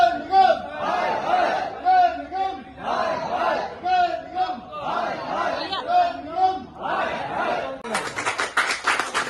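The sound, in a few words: crowd of traders shouting protest slogans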